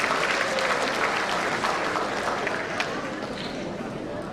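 An audience of a university gathering applauds students, a dense, sustained wash of clapping that slowly thins near the end.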